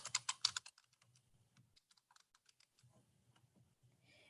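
Typing on a computer keyboard while entering cells in an Excel budget spreadsheet: a quick burst of loud clicks, then sparse individual keystrokes, then another short run of taps, close and clear with no voices.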